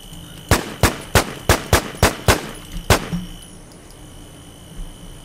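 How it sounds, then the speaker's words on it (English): Rapid video game gunfire in a WarZ firefight: eight sharp, loud shots in an uneven burst over about two and a half seconds, then one softer shot after a pause, with no talk. "I'm shooting him up good."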